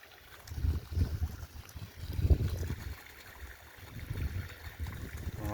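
Water gushes from a pipe broken by a buffalo's hoof and spills into a farm field, a close, uneven gurgling and splashing rush that surges and dips throughout.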